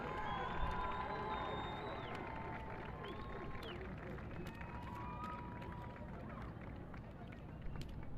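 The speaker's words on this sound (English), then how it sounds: "a round of applause one more time for all your Desert Mountain Senior Marching Wolves" A crowd at a high school football game cheers and claps for a senior marching band, a dense, sustained roar of voices and whistles heard from some distance, with shouts rising and falling throughout.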